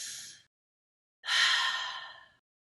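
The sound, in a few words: deep breaths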